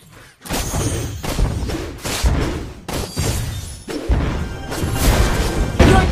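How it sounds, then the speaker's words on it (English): Destruction of a turret in the mobile game Mobile Legends: Bang Bang, a run of loud crashing, thudding impacts and shattering bursts that carry on in close succession with no pause. "Your team destroyed a turret!"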